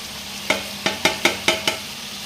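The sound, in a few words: crushed pepper, cumin and asafoetida sautéing in oil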